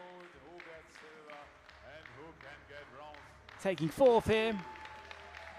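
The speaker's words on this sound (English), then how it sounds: "Listen to the noise. The crowd here showing their appreciation for Justine Bev of France." A crowd at a mixed 10m air rifle prone SH2 shooting final at the WSPS World Championship in Lima 2023 breaks into a short, loud burst of cheering and applause, following a commentator talking.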